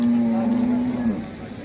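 A single cow or bullock at a busy ox market lets out one loud, drawn-out low moo that lasts about a second. Faint crowd noise fills the background.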